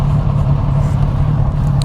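A Kawasaki Ninja 400 motorcycle being ridden, its engine a steady, close mid-pitched drone with a little wind noise over it, with no talking.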